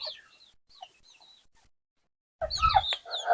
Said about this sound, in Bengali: আজকে আমার দেশি মুরগিগুলো ছাড়তেছি